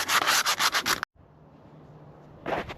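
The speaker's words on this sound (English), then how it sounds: "we're all done sanding the top rail" Rapid back-and-forth hand sanding of a wooden handrail's top rail, close up, then a short pause before the scrubbing starts again.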